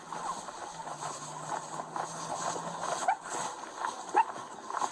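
A police K-9 dog inside a house gives faint whimpers and a few short sounds against quiet background noise, somewhat distant and low in level.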